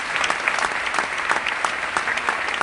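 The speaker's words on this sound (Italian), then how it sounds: "ai ricercatori farei un grande applauso per questo" Audience applauding researchers at a Rome celebration event, a lively burst of many clapping hands with distinct individual claps standing out over a continuous wash.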